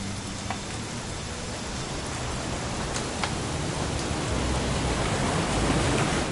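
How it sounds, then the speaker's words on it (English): Steady, dense video game rainfall hisses continuously, a broad wash of noise with faint scattered drops, growing slightly heavier toward the end. "It's gonna rain the whole weekend, isn't it?"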